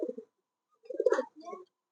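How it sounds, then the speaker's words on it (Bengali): A pair of Bombay pigeons coo softly in short throaty bursts, one brief call followed by a longer rolling coo, close and quiet against silence. "অনেক সুন্দর এক জোড়া কবুতর।"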